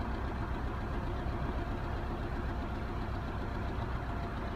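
A 1999 Subaru Legacy B4 RSK with a twin-turbo engine and stock exhaust idles steadily nearby, a continuous low rumble at an even level with no talk over it.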